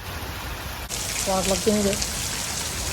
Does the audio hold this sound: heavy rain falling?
yes